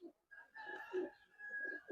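Pigeons of the Palla line breed coo faintly in a quiet space, soft low murmuring calls over a steady thin background tone.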